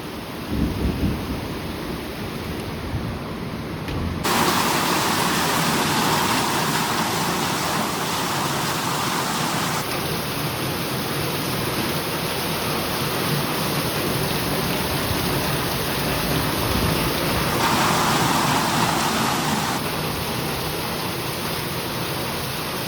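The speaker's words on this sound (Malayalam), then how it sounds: "ഭയങ്കര മഴ കണ്ടത്തിലോട്ടൊക്കെ നല്ല മഴ പെയ്യും" Heavy rain pours steadily in a village setting near paddy fields, a dense continuous hiss with rumbling undertones, loud and unbroken, with a thin high whine coming and going above it; no one speaks.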